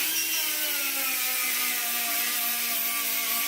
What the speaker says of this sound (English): use our right angle die grinder here to remove those scratches that our 60 grit flap disc made